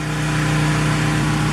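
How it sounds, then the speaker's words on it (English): A neighbor's lawn mower drones steadily next door while cutting grass, a loud, constant mid-pitched engine hum with no voices. "I think my neighbors are getting their grass cut next door, so it's a little bit loud outside."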